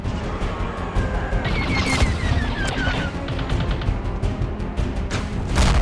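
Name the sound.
gunfire shooting enemy ships in Star Wars video game project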